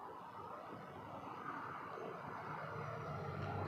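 A Heathrow-arrived Boeing 777-200LR rolls off the runway at Toronto Pearson Airport, its engines giving a faint, steady roar that swells slightly toward the end, heard from a distance with no talking.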